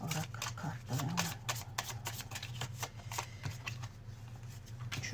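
Oracle cards are spread out for a reading, giving a close series of crisp slaps and papery rustles in uneven bursts, with quieter pauses between handfuls.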